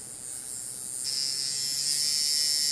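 A coil tattoo machine runs with a steady high-pitched electric buzz, close and fairly quiet, growing slightly louder partway through with no talking.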